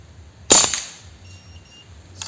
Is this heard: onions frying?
no